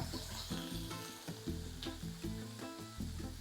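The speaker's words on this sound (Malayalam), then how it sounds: "ഇത് നന്നായിട്ട് വഴറ്റുക" Food sautéed in a hot pan for a school lunch box, with a loud continuous sizzle and repeated stirring scrapes at a close distance, no talking.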